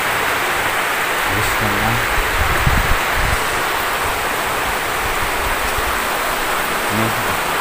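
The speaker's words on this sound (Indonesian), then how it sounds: "Itu hujannya ya." Steady rain pours down over an abandoned campsite, a dense even hiss filling the whole stretch with brief low rumbles, while someone talks quietly beneath it.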